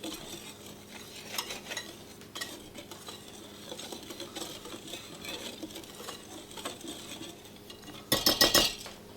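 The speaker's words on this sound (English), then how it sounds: "We're just going to whisk all of our ingredients together." Cobbler topping ingredients, including salt, get whisked in a bowl, a faint steady scraping and tapping of the whisk, with a sharper clatter near the end.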